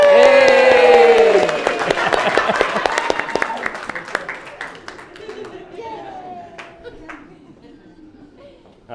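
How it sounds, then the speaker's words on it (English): Wedding guests break into a round of applause and cheering at the party, with a loud burst of clapping and whoops that opens the stretch. Voices talk over it as the clapping thins and fades. "Round of applause for Ella."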